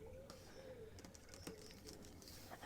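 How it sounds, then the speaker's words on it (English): Birds coo and call outside an open window beside a garden fountain, faint and distant, with soft patter and a low room hum underneath. "I've left the window open so we can hear some birds and the fountain outside, some garden sounds"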